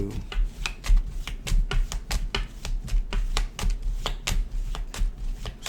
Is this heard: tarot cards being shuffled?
yes